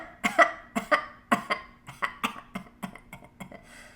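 Deliberate coughing as part of a laughter exercise, a steady series of a dozen or so short, evenly spaced coughs, close and moderately loud with no other sound.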